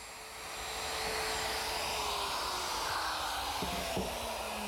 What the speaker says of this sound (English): the bit that I'm using is just a 1/4 inch router bit, which makes holes perfect for the pin